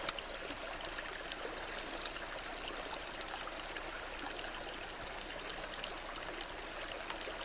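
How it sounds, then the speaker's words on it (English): Running water of a stream in a quiet outdoor setting, a constant faint rushing and trickling with no voices over it. "Except the running water."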